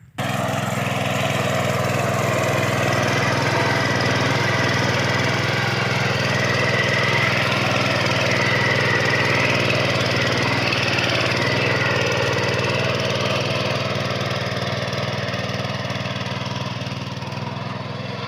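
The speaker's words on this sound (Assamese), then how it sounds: "নতুনকৈ এখন মিনি ট্ৰেক্টৰ লৈ আহিছে।" A new mini tractor engine runs steadily and loudly with a low, even chug that barely changes, with no talking over it.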